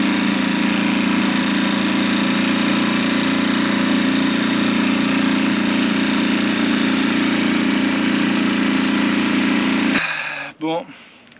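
A sailboat's small engine drones loudly and steadily for about ten seconds, then cuts out abruptly, leaving a few brief clunks and quieter sounds.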